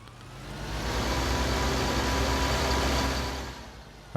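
Farming Simulator 19 tractor engine, a steady low rumbling drone that swells and holds at a constant level before dropping away at the end, with no talk over it.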